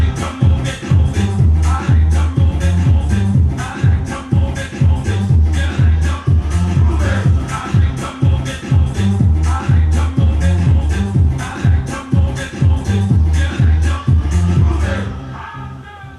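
Upbeat faster-tempo music meant for people moving chairs at a seminar or workshop: a steady, evenly spaced loud beat running without pause for about sixteen seconds, then easing off at the end.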